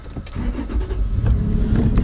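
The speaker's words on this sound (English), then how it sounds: "Start her up." A video-game car engine cranks and starts, with a key-like click and then a loud, close engine rumble that settles into a steady idle for about two seconds.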